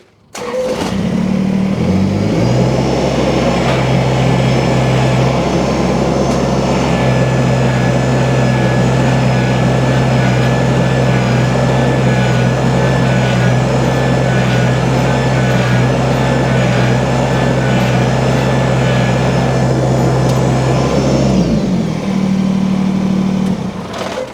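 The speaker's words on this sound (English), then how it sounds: "if you do that trick where you kind of jiggle the tractor a little bit, it bounces the load" A Kubota BX compact tractor engine starts and runs at a steady, loud drone, rattling and idling close by while jiggling a firewood load, before cutting off near the end.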